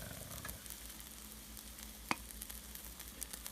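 An egg frying in a pan for a breakfast burger gives a steady close sizzle with a sharp pop or two, heard alone without talk.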